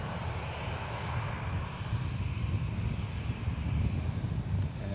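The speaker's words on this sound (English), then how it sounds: "787-10 Dreamliner in the 100th anniversary livery on a 787-10" A KLM Boeing 787-10 Dreamliner in 100th anniversary livery at San Francisco International Airport, its engines a steady, moderately distant rumbling roar with some wind noise, continuous without pause.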